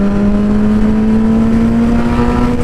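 A van drives past in traffic, a steady close engine drone with a rising whine held throughout, mixed with road rumble and no voices.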